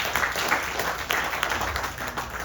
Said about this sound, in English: Please give our Vyajji a big round of applause.